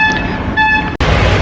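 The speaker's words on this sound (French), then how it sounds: "ça n'arrête pas de klaxonner pour rien du tout" Car horns honk in a busy street in Panjim, Goa: a sustained tonal blast with harmonics that steps in pitch, briefly cuts out, then gives way to dense traffic noise.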